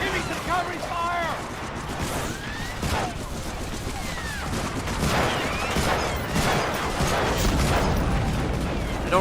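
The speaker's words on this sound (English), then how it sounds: "Give me some covering fire!" Covering gunfire in a PlayStation 2 shooter game rattles continuously through dense, busy combat noise, with bursts, booms and mechanical clatter layered under game voices.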